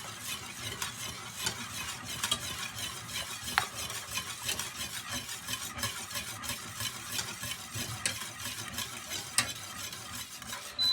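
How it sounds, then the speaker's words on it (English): Thick Jamaican porridge is whisked in a pot, giving a quiet, continuous rhythmic scraping and swishing with small metallic clicks, alone and fairly close. "keep whisking it."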